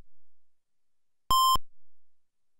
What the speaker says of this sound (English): firing just produces a beep and an attribute flash